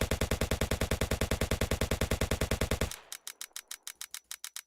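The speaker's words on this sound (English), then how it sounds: "Like that sound of you not being able to shoot, because you're out of ammo" A video game gun fires in a rapid, loud automatic burst that stops abruptly, followed by a series of quieter evenly spaced clicks as the trigger is held with the weapon out of ammunition.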